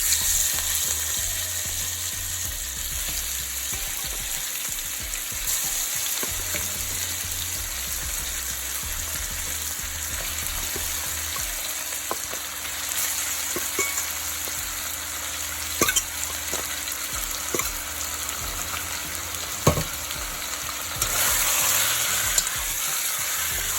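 Goat meat sizzles in hot oil with toasted cumin in a pot: a steady, close frying hiss with occasional stirring clicks and pops.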